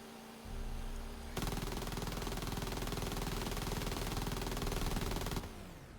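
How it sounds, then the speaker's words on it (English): Scouts open fire in the video game Silica, a sustained burst of rapid automatic gunfire that starts abruptly after a low rumble, rattles loudly for about four seconds, then cuts off. "Yep, they're already opening fire"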